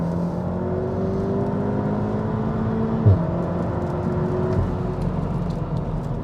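A VW Golf R MK7 hot hatch accelerates hard, its engine note climbing steadily through the revs from inside the car, with one brief thump midway and no talking.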